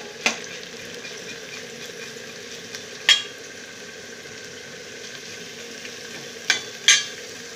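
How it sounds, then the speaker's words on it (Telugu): Onions frying in oil in a pan, a steady soft sizzle throughout with a few sharp stirring clinks scattered through, close and fairly quiet. "ఉల్లిపాయలు ఆయిల్లో బాగా ఇవి రెడ్గా వేగాలన్నమాట."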